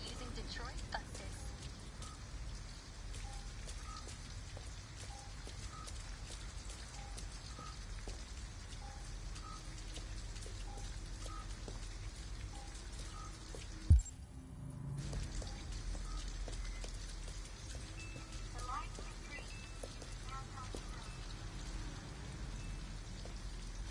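Steady rain pours down in the video game Detroit, a continuous wash of drops with a single sharp thump partway through and low rumbling beneath.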